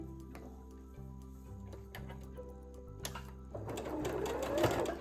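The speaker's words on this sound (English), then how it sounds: "and stitch the 2 matching pieces together" A sewing machine stitches two matching pressed fabric pieces together, humming with a steady close motor whir that swells louder and busier toward the end, with no voices.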